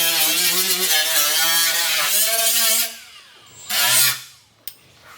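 Power tool such as a die grinder deburring freshly drilled holes in a Honda car floor for a shifter install, a loud close whine running for about three seconds, then a shorter burst after a pause.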